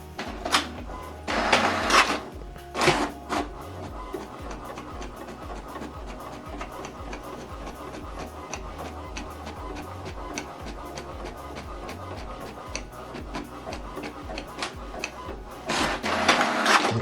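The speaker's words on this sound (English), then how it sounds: "Now this document is printing." A home printer prints a document, with a busy mechanical stream of rapid ticks, whirs and rhythmic feed clatter, louder bursts of paper handling near the start and end, and no speech.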